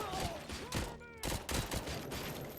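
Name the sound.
gunfire in RoboCop Rogue City video game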